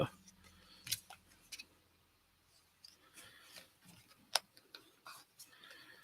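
Quiet, close snips and crisp clicks of scissors cutting heat shrink tubing, spaced irregularly with soft rustling in between.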